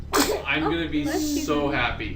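A single sharp sneeze bursts out near the start, followed by a person talking casually over a quiet background while playing a detective hidden-object game.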